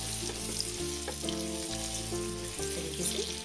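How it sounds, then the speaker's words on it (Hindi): Moong dal roasting in ghee over medium heat, a continuous close sizzle with a low steady hum underneath and faint stirring, with no voices. "इसे मिलाते हुए घी में इसे हमें भूनना है।"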